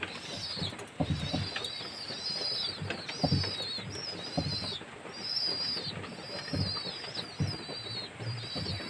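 Several domestic pigeons coo repeatedly in soft rolling phrases close by, kept in a home loft on a rainy day and being given liver medicine in their drinking water, with faint background noise between calls.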